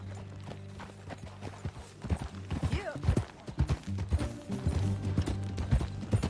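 Horse hooves clip-clop at a steady riding pace in Red Dead Redemption 2, close and moderately loud, with tack creaking and a brief spoken reply over them.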